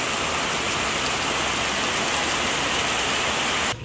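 Heavy rain pours in a dense, unbroken hiss that stays loud and steady throughout, then cuts off abruptly just before the end.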